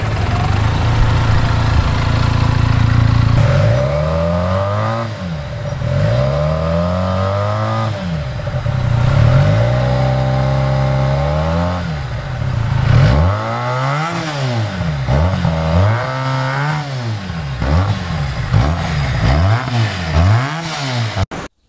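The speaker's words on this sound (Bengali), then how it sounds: "এই এক্সস্টটা আমি তোমাদেরকে শোনাবো।" A Benelli 302R sport motorcycle's racing exhaust revs repeatedly from idle, each throttle blip rising and falling, loud and close, with no talking.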